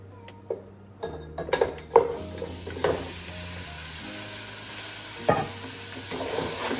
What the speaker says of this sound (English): So now I'm going to put the beef ribs into the pot.